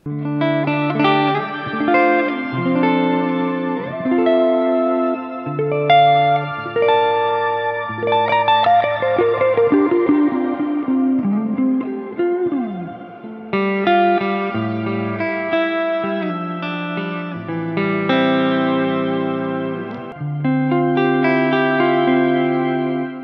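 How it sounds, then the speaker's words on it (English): Electric guitar played through two stacked reverb effects, one a shimmer, ringing out in lush, washing chords and single notes with long pitched tails, continuous and fairly loud throughout with no voices. "So we have two reverbs on top of each other."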